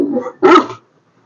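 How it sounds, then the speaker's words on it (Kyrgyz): A Caucasian shepherd dog at an animal bazaar gives a low rumbling growl, then one loud, deep bark up close, followed by quiet. "Үрүп атат үч жактан."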